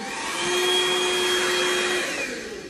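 A household vacuum cleaner runs steadily in a home, a loud, continuous motor whine with a bright tonal hum, close by and without speech.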